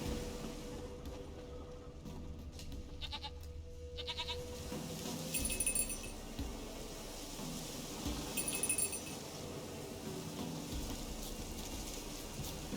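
A goat named Princess in the video game The Witcher 3 gives two short bleats a few seconds apart, standing out over a steady rain-like outdoor ambience.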